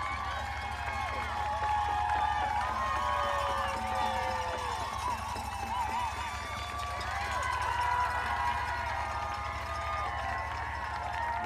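Roadside spectators along the 2019 Boston Marathon course cheer and clap in a steady, distant roar while a commentator talks over them.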